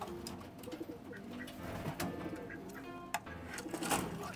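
Pigeons cooing in a loft, soft repeated low coos amid rustling, fluttering and clicking, faint and close-by, with a few sharper knocks and no clear talk.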